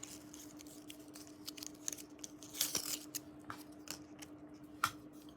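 AirPods Pro 2 box packaging being opened: quiet crinkles, paper tearing and scraping in short irregular bursts close by, with a soft steady hum underneath and no talking.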